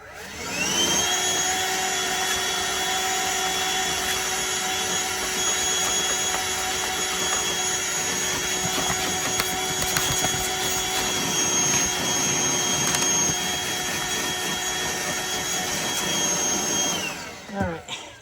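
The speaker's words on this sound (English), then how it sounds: "I'll vacuum it out first and we'll see how it looks" A loud Hoover Elite Rewind vacuum cleaner runs steadily and close, vacuuming out a motor filter, its high whine holding constant until it shuts off at the end.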